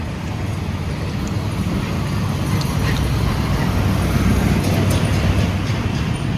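Traffic and vehicles at a busy mandi market: a steady, dense low rumble of engines and road noise, with no clear individual horn or pass-by standing out.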